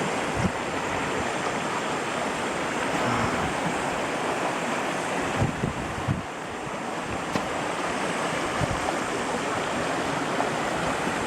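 The Daraitan river flows in a steady, dense rush of water, loud and constant across the whole stretch, with a few faint knocks and no voices.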